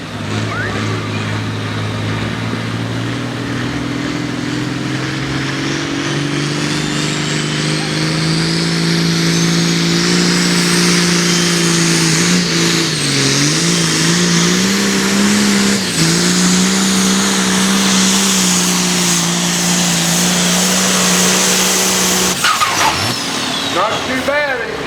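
A high-horsepower pulling tractor roars at full power during a tractor pull, a loud sustained engine drone that holds steady, dips briefly midway, then cuts off near the end.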